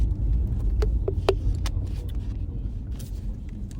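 Steady low car engine rumble and road noise from inside a moving car on the way to a skate park, continuous and fairly close, with a few faint clicks and no talk.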